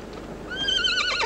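A horse gives a loud, close whinny that rises and wavers for about a second, preceded by a few soft thuds that may be hooves.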